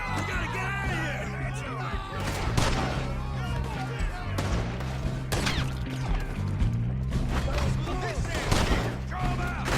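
Gunfire during a chaotic Red Dead Redemption 2 shootout, repeated sharp shots and crashes scattered across the scene, mixed with shouting voices and background game music.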